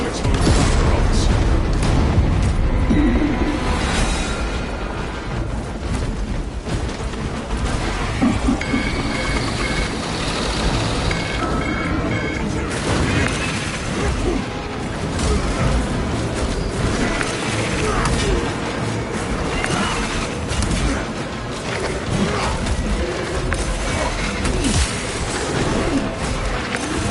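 Combat in Warhammer 40,000: Space Marine 2 as fire pours onto exposed cooling rods: dense, continuous gunfire and booming explosions with metallic mechanical clatter, loud throughout, with radio voices talking over the din.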